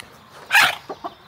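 Hens on a homestead cluck for breakfast in the morning, one loud squawking cackle followed by two short softer clucks, close by.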